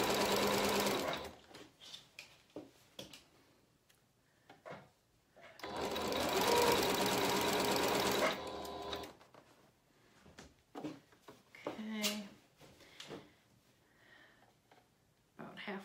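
A sewing machine stitches in short stop-start bursts, with one longer steady run in the middle, interspersed with fabric handling and small clicks nearby.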